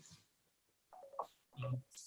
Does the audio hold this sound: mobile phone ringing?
yes